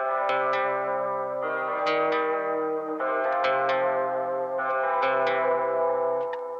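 Electric guitar run through an analogue delay set fully wet, notes swelling in so the repeats seem to arrive before each pluck, giving a smeared reverse-like wash of echoing chords that sustains continuously.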